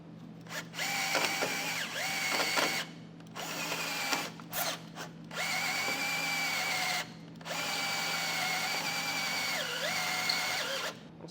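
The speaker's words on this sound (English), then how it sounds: "Once I got that hole drilled out" Power drill whining in several sustained bursts as a step bit cuts a hole through the metal body of a 2017 Ford Explorer, close and loud with short pauses between passes.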